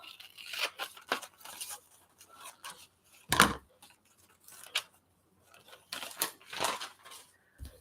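A page being cut out of a magazine with scissors, irregular soft snips and paper rustles with one sharper crisp cut midway, close and fairly quiet, no talk.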